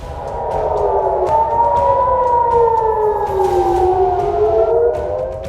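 Air raid warning sirens wailing over Tel Aviv during an Iranian ballistic missile attack, a loud, continuous rising and falling civil defense tone with several overlapping sirens drifting in pitch, no voices.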